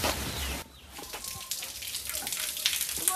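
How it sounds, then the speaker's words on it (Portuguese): Chickens cluck on a rural property in Brazil, several short clucks scattered through the clip, fairly close, over a hissing background of water or wind. "Muita galinha."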